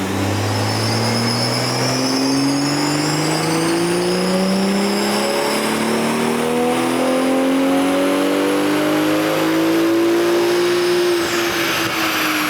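A BMW M340i running on E50 fuel at 22 psi boost with a JB4 tune revs hard on a dyno, its engine note climbing steadily through the gears for a long, loud, continuous pull with no talking.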